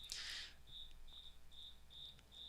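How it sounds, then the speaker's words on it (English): Cricket chirping in short, evenly spaced pulses, faint and steady, with one brief louder rustle at the start. "Yeah, the crickets, man."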